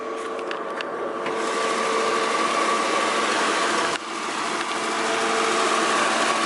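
A 1995 Volvo 940 engine idles with its hood open, a steady continuous drone with a whining high tone on top, close and even, with a brief dip near the middle and no talking.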